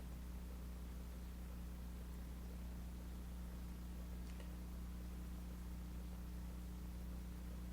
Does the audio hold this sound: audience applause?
no